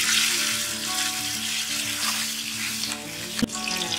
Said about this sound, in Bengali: এবার পার্শে মাছগুলো আমরা হালকা করে ভেজে নেব।